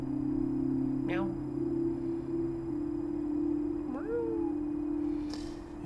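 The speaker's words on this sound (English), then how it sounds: "Meow." A pet cat gives two short meows a few seconds apart, near and fairly clear, over a steady background hum.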